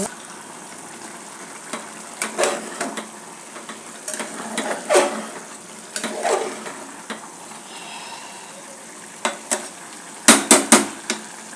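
A pot of Rayalaseema-style mutton biryani with basmati rice bubbling on the stove while a spoon stirs it, giving a soft steady simmer broken by scraping strokes and sharp clinks against the pot.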